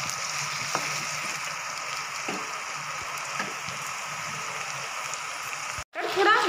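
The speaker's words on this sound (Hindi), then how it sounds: "और प्याज के साथ में टमाटर को भी अच्छी तरह भून लेंगे" Onions and tomatoes fry in a pan for a Hindi-style matar chaat, giving a steady, moderate sizzle and crackle throughout, briefly cut off near the end before resuming louder.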